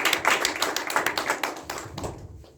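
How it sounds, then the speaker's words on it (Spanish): An audience at a music master class claps for a teacher in a short burst of dense applause that fades out after about two seconds. "Vamos a darle un fuerte aplauso a la maestra."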